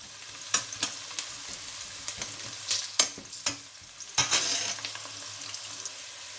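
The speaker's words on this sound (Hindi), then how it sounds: "प्याज को हल्का सा गोल्डन ब्राउन करेंगे" Onions sizzling in oil in a pot with a star anise flower and green cardamom pods for chicken biryani, a steady close sizzle broken by several sharp stirring scrapes, no talk.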